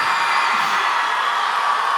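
A crowd at a church conference cheers and whoops together in a sustained, bright roar of many voices lasting a couple of seconds.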